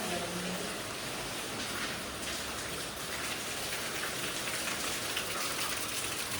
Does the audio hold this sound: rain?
yes